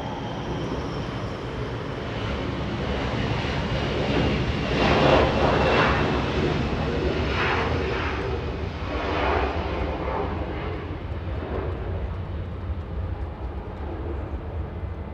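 A Delta Airbus A220 jet arriving at Los Angeles International Airport roars steadily through the air, a loud broadband engine rush that swells near the middle and slowly fades.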